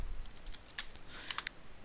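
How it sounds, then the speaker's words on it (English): Quick bursts of key clicks on a computer keyboard as a Linux command is typed, light and close, with short irregular clusters of taps separated by brief pauses. "you want to type in sudo apt-get"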